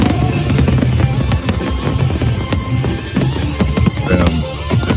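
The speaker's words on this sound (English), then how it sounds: "It's hard for my brain to process the number of fireworks that are going off." A dense fireworks show at an American party crackles and bangs without pause, many bursts overlapping in a loud, continuous barrage.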